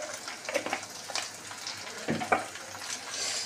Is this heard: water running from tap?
yes